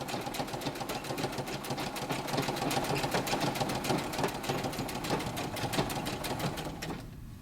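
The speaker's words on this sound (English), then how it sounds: "so I'm going to go ahead and do a zigzag stitch all the way across" Sewing machine running a zigzag stitch across a ruffled apron, a loud, fast steady mechanical chatter close by, stopping abruptly just before the end.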